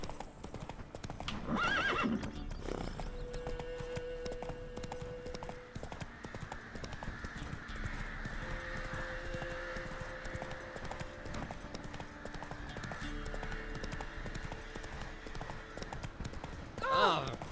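A horse trots along steadily in The Witcher 3 video game, its hooves clip-clopping in a continuous rhythm beneath game music and ambient sound, with a whinny near the end and character voices talking.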